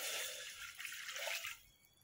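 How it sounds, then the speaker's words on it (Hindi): Water from a glass poured into a cooking pan for a Hindi raw mango curry, a steady splashing pour lasting about a second and a half before tapering off, no talking. "इसके बाद सेम वही पैन में हम पानी ऐड करेंगे 2 ग्लास जितना।"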